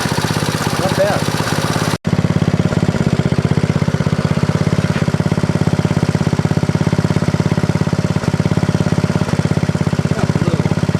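A small single-cylinder engine on a 1964 Honda S90 motorcycle runs close by at a steady, rapid idle, with a brief cut near the start before the loud, even chugging resumes.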